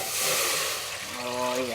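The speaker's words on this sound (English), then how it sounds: "Time to add 5 cups of water." Water pours into a pot of toasted spices on a kitchen stove, a steady broadband rush of filling liquid that shifts in tone toward the end as the pot fills.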